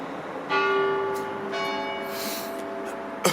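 A church bell in a Welsh coastal town strikes the quarter hour, ringing several times at a measured pace, each stroke leaving a long metallic hum in the open air.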